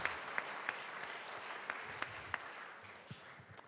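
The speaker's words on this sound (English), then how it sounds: "Round of applause for our nonpartisan," Applause in the Colorado House chamber for nonpartisan staff and aides, a soft, distant patter of clapping with a few sharper individual claps standing out at irregular intervals.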